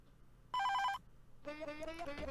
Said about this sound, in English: Oh, hello, the phone.